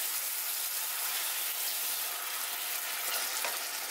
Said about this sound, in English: cook the mutton pieces until all the water evaporates